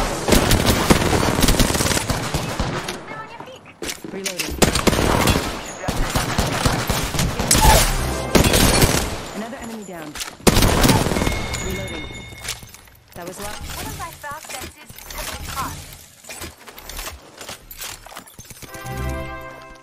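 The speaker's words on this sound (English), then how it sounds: "Getting shot at." Loud, repeated gunfire in an Apex Legends match: rapid automatic bursts and single shots crowd nearly the whole stretch, broken by short lulls, with voices heard along with the shooting.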